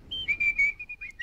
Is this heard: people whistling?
yes